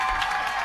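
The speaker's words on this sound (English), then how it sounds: "round of applause for everyone on stage" Applause for a voice cast on stage at a live reading event, a broad steady wash of clapping from an audience, moderately loud and continuous throughout.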